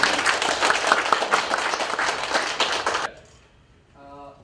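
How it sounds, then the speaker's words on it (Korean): An audience at a government unification policy briefing applauds, producing loud, dense clapping from many hands for about three seconds before it cuts off sharply. Afterward a quiet room remains, and a faint voice begins speaking. "우리 이승신 부장님께 큰 박수 부탁드립니다"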